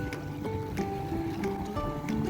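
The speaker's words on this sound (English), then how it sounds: "So I'm just gonna leave the engine running" A boat engine left idling beside a dock in Dutch Sint Maarten, a steady low rumble with faint water sounds, running continuously with no voices.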